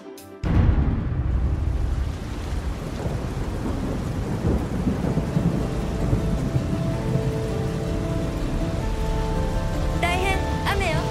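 Heavy rain pours steadily with rumbling thunder in a fantasy scene set outdoors, a loud continuous wash that starts abruptly after a moment of quiet, with brief voices near the end.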